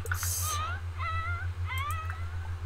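Cat meowing in the Sims 4 game, three short rising meows over a steady low hum, fairly close and clear, with a brief bright burst at the start.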